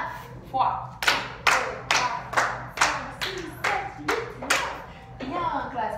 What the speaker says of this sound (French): applaudissez-vous 9 fois